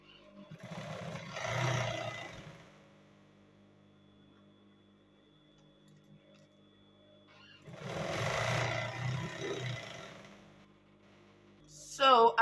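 A sewing machine hems a palazzo trouser in two separate bursts of whirring stitching, each a few seconds long, with quiet pauses between and a brief clatter at the end.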